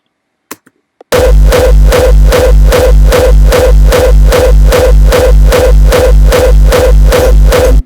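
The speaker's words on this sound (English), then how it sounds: "So together the kick sounds like this." A hardstyle rawstyle kick drum with compressed bass pounds in a steady loud loop of about sixteen heavy distorted hits, each with a booming low tail, after a brief near-silent start with a few tiny clicks.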